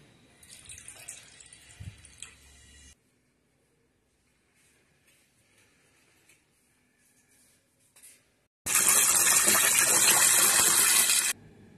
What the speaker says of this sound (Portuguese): Eu vou colocar o óleo e a água nessa caçarolinha